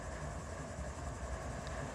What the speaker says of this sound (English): So it's starting up as an AI train. And the engines are firing up.